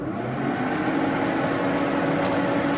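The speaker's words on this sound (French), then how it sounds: "la ventilation est assez bruyante" The cooling fan of a Lecon Chef portable 3500 W induction hob runs at default power with a steady, fairly loud whirring drone, close and continuous, with no voices.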